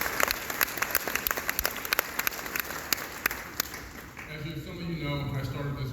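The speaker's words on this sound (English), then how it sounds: "So give Richard a round of applause." Conference audience applauding steadily for several seconds, dense clapping that thins toward the end as a voice starts talking over the fading claps.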